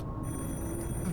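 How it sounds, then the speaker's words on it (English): A telephone rings in the horror video game The Incident at Galley House, a single brief ring heard at moderate level over a low, murky background hum. "Yes, the phone ringing again."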